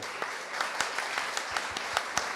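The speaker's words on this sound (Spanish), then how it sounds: "Un aplauso para él, por favor." Audience applause at an animation festival panel, a steady wash of many hands clapping, moderately loud and continuous, with a few sharper individual claps standing out above the crowd.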